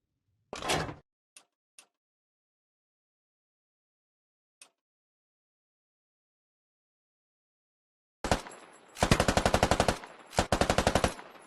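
In a tank teaser for the game Squad, a .50 cal machine gun fires loud, rapid bursts near the end. Before that come a few sharp isolated clicks and mechanical knocks separated by silence.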